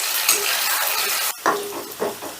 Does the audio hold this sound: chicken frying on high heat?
yes